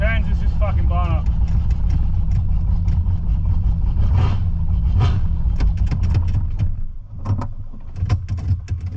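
A Holden VN Calais engine runs at its first start, a low steady rumble beneath loud nearby talking, with a brief dip near the end.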